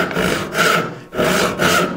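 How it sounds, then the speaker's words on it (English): A properly set hand saw cuts through wood in a woodworking shop, with two long, loud, smooth rasping strokes separated by a brief pause, close to the listener. "If I take this saw, the cut should start very easily."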